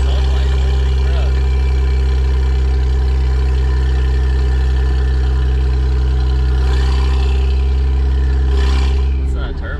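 Turbocharged 1JZ-GTE engine in a five-speed Toyota Aristo on the move: a loud, steady low drone with strong harmonics runs throughout, with a brief whooshing swell near the end.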